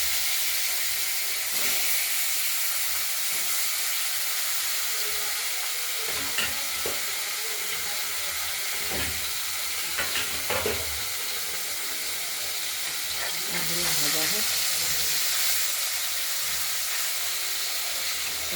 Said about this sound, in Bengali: ভাজা করে নিয়ে আলুগুলো ভাজা হোক